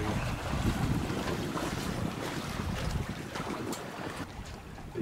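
Steady wind gusts across the microphone with water washing nearby, while a sailboat's jib flutters and flaps loosely in a light breeze of about 7-8 knots.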